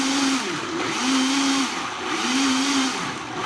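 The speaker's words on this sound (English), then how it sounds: "something's wrong with my blender, so I have to keep pressing it down" A faulty blender whirring through a thick raw vegan chocolate mixture, its motor pitch rising and dropping in three repeated surges as it is pressed down.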